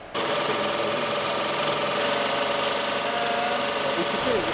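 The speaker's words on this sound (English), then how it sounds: "feeding this through the sewing machine" A sewing machine stitches a silicone edge onto tension fabric for large-format printing, running continuously at a steady, fast rhythm, a close mechanical whir and chatter that starts abruptly and doesn't let up.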